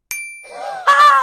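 A bright notification bell dings once, ringing with a clear sustained tone, followed by a second shimmering chime that swells and holds, with no voices.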